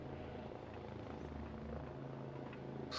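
A drone hovers in the space survival game Empyrion Galactic Survival, its steady rotor drone loud and continuous throughout, with a brief brighter burst at the very end.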